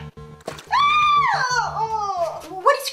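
A person screams after being splashed with water: a loud, rising and falling shriek lasting about two seconds, cut with a brief vocal catch at the end, over a low rhythmic background hum.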